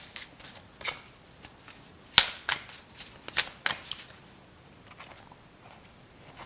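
Tarot cards being shuffled by hand in quick riffling bursts, several crisp flurries clustered together, close and fairly quiet, then tapering off into near silence.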